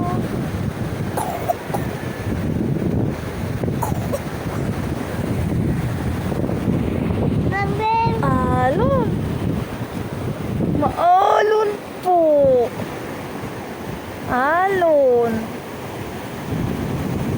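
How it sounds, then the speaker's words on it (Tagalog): Steady roar of rough sea surf at a Pangasinan beach and wind on the microphone throughout, with people talking and calling out over the waves in the middle. "Look at the waves."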